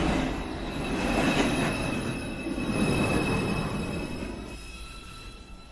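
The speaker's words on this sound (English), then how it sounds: "This is a Manhattan-bound 2 train." New York City subway 2 train arriving at a station, a loud rumbling roll with high squealing wheels and faint clatter, swelling then fading as it slows.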